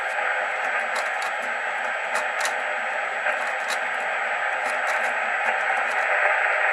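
Radio static hisses steadily from a receiver while a manual antenna tuner's inductor is rolled, a constant broadband crackle with faint intermittent ticks and a tone, growing slightly louder toward the end.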